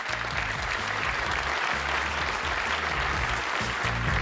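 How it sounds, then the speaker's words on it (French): A studio audience at a quiz show finale applauding the contestants, loud sustained clapping throughout with a low rhythmic music beat pulsing underneath. "On peut les applaudir bien fort."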